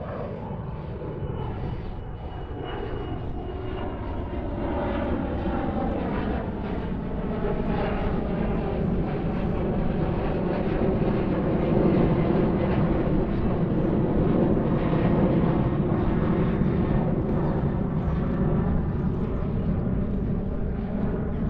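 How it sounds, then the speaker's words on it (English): An aeroplane flies overhead during a neighbourhood walk in Kempton Park, Johannesburg, a steady broad engine roar that swells gradually and holds loud throughout, with no talking. "Oh, there goes an aeroplane."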